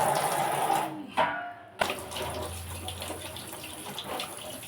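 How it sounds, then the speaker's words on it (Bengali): Water runs steadily from a tap while crabs are rubbed and washed, a soft continuous splashing broken by a brief pause and a couple of sharper knocks. "এরকম ভালো করে রোগড়ে রোগে ধুয়ে নিতে হবে।"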